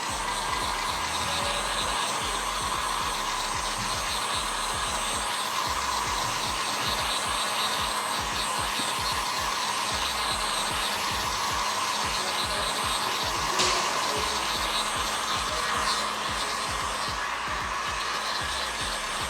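Heat gun blowing hot air on boat trim, a steady close-up whooshing roar with a faint motor whine, continuous and even throughout with no talking.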